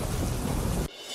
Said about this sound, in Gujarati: ગોંડલમાં સતત ત્રીજા દિવસે ધોધમાર વરસાદ.